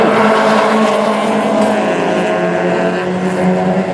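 Peugeot 306 race cars battling wheel to wheel at a Fol'car event in Mayenne, engines droning loud and steady with a continuous roar, no pause, close by throughout.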